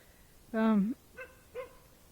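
A dog met on a horse trail while riding a Tennessee Walking Horse lets out one drawn-out whining bark followed by two shorter, softer yips, close by and fairly faint against quiet outdoor background.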